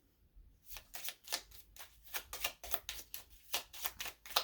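Oracle cards from a Divine Counterparts Speak in Silence deck being shuffled, a quick run of crisp riffling bursts, close but quiet, with no voice.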